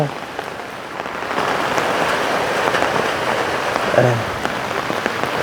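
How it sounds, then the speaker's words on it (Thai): Heavy storm rain with wind in Laos pours down in a steady dense roar, drumming on nearby surfaces, with a brief knock partway through. "ฝนพายุฝนพี่น้องเอ้ยมื้อนี้เนาะฝนตก"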